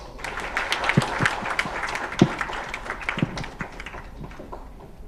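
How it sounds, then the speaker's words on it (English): Scattered clapping from a conference audience at a school education event in Guindy, a thin round of individual claps with uneven rhythm and a few sharper, louder hits, moderately close. "Can we have a big round of applause?"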